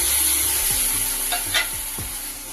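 Cabbage leaf paste frying in a pan with a splash of water, a steady close sizzle with faint scraping stirs and a few soft knocks of a utensil, with no voices.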